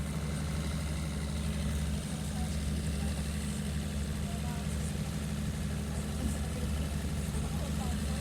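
A Yes motorboat idles at departure on a hot, clear day, bound for Ilha Anchieta; a steady low engine rumble runs throughout, close and continuous, with no breaks.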